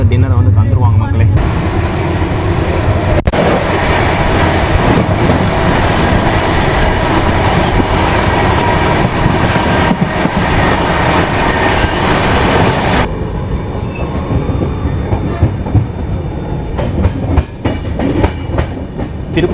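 The Shatabdi Express running from Coimbatore to Chennai gives a steady, loud rumble of wheels on the rails with faint clickety-clack, heard from inside the coach and easing slightly as the train slows.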